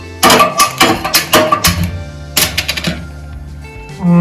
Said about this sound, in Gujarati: ગેસ ઓન કરીશું